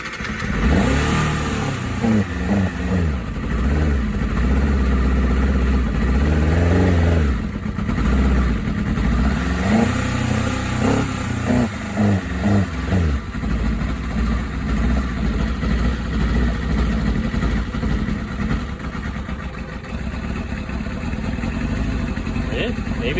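A Kawasaki Ninja ZX6R motorcycle with a suspected failing fuel pump runs loud and close, its engine surging and sagging unevenly as it bogs, with a voice talking over it at times.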